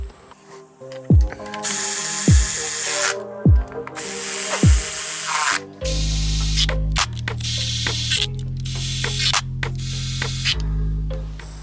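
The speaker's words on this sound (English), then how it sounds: "This is just a 1/4 inch ratchet, so it's not putting a ton of torque on them." A 1/4 inch ratchet snugs down the valve cover bolts on a Honda Accord Sport, giving a few sharp clicking bursts followed by longer steady mechanical runs, close and loud, with no talking.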